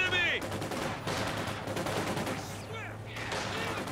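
G43 rifle fire crackles through a World War II video game battle, a steady fusillade of sharp overlapping shots under continuous rumbling noise, with brief whistling tones at the start and near the end.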